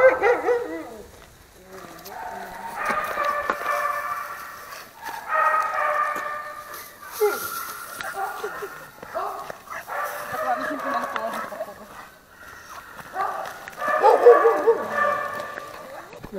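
Several dogs at a shelter near Krasnoyarsk bark in recurring rough bursts with yips and whimpers, fairly close and loud, while people talk at times.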